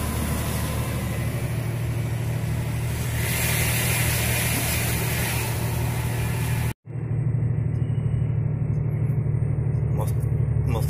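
Heavy trucks idle at a customs checkpoint on the road to Santiago, Chile, a steady low engine rumble that holds throughout, cut by one brief dropout before the drone resumes.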